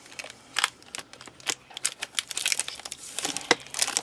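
Pearl polymer clay package being opened, a close run of crisp crinkling and tearing sounds with sharp plastic snaps spread through the few seconds, no talking.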